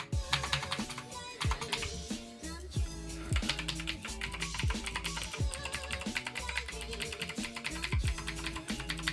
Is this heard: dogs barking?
no